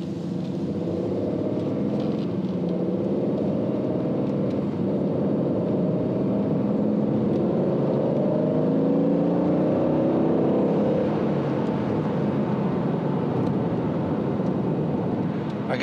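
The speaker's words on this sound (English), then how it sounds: "it's an incredible engine sound" A 2020 Aston Martin Vantage engine accelerating on the road, a steady deep drone heard from inside the car with rising tones climbing through gears, continuous and moderately loud, with no talk.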